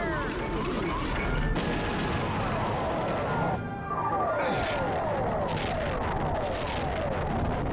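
Heavy weapons fire and booming explosions as the Stealth Squadron opens fire in the space-combat game Star Fox Assault, a dense continuous barrage with laser-like sweeps over a constant roar.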